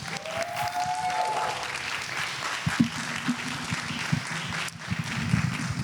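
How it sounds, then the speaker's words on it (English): Seated audience at a breast cancer awareness summit panel applauding steadily, a continuous clapping texture with a brief tonal whine early on and a few louder claps partway through. "Please give these ladies a round of applause."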